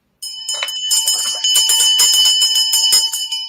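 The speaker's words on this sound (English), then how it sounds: "Ring the bell." A bell rings loudly and continuously at close range for about three seconds, a bright metallic clanging with a steady ringing tone and no voices over it.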